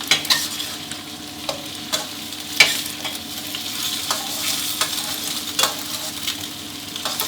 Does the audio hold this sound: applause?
no